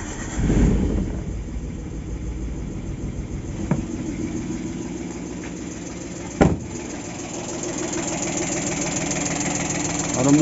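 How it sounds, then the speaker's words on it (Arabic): A car engine idling normally after a distributor cap is installed, on a three-cylinder Suzuki Alto: a steady close engine rumble with a couple of brief knocks or bangs partway through, no talk. "الموتور ناض نورمال"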